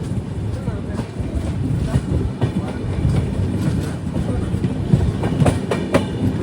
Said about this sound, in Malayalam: ട്രെയിൻ ഇപ്പം വറങ്കൽ റെയിൽവേ സ്റ്റേഷനിലേക്ക് എത്തിയിരിക്കുകയാണ്.